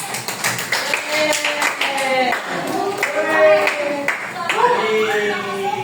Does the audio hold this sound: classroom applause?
yes